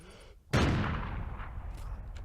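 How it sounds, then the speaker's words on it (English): A USR sniper rifle fires once in a Call of Duty: Ghosts 4v4 Search and Destroy match: a single loud, sharp report with a long rumbling tail. "Espo is going to be there with the sniper rifle. So picks off Steve, and a nice shot there with the USR."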